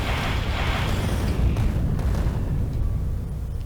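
A Spidertron fires rockets at worms in the video game Factorio, heard as a dense, loud rumbling roar of blasts that swells and then slowly fades, with no voices over it.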